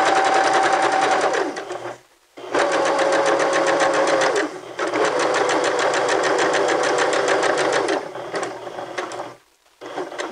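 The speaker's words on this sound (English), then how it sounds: "you are going to backstitch and then stitch forward" A domestic sewing machine stitches a seam loudly and continuously, with a short backstitch then forward runs broken by two brief pauses, a faint whine riding over the rhythmic needle chatter.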